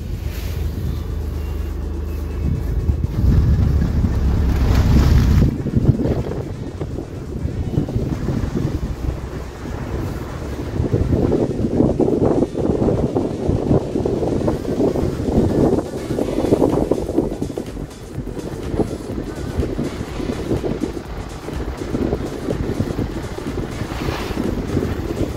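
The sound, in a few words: vehicle driving on freshly spread gravel road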